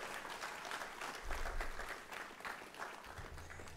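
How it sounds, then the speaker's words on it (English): Applause from a conference audience at a closing keynote, a moderately quiet round of clapping that carries steadily through a large room and swells slightly midway before continuing at an even level. "may I have a round of applause for all of you for being such great audience members"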